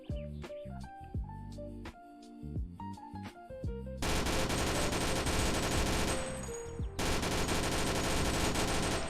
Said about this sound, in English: Yeah, antimatter machine gun.